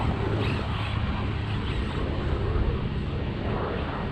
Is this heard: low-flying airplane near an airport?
yes